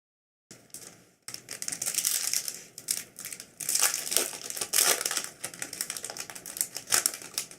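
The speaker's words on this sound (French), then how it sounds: "On va maintenant s'ouvrir ces boosters Movie Pack Gold" Foil Yu-Gi-Oh! Movie Pack Gold booster packs being torn open, with a run of close, crisp crinkling and ripping bursts that come in uneven waves, no talking.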